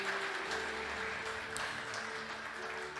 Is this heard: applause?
yes